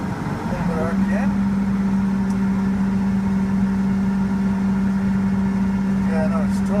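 A farm tractor engine hums at steady raised RPM while a folding implement is raised, a constant droning tone with voices talking over it near the start and end.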